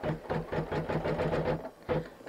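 Sewing machine stitching the first stitches of continuous free-motion quilting: a rapid, even run of mechanical stitch pulses, close and moderately quiet, with a brief pause before it resumes.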